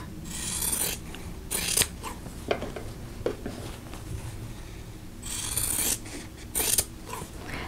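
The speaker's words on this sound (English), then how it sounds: "So I'm going to cut off the outer corners, leaving a 1/4 inch seam allowance." Scissors snipping the corners off quilt block fabric, several short rasping cuts in clusters with quiet pauses between them, close up with no talking.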